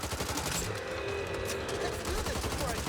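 Gunfire in the Back 4 Blood shooter rattles in dense, rapid bursts throughout, loud and continuous, with no pause in the firing.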